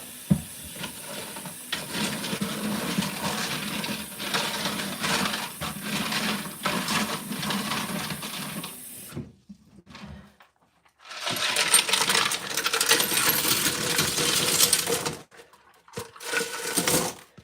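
Tumbled rocks rattle and clatter in a container as they are shaken and rinsed, with long bursts of loud gritty rattling broken by short pauses, close and alone.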